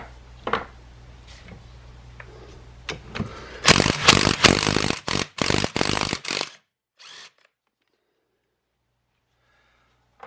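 Bolts being backed out of a seized 2004 Honda CRF250 dirt bike engine during teardown: a run of loud, close whirring bursts that stop and start several times, then a brief final burst before silence.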